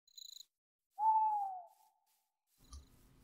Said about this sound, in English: an owl hooting when you're walking through dark oak